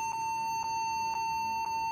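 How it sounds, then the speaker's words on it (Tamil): A laptop gives a continuous beeping at power-on, warning of a test failure: a steady electronic tone held throughout, with four brief regular dips about half a second apart, loud and alone with no voices. "நம்ம லேப்டாப் ஆன் பண்ணும்போது சில டைம் வந்து இந்த மாதிரி பீப் சவுண்டு கண்டினியூவாக வந்துகிட்டே இருக்கும்"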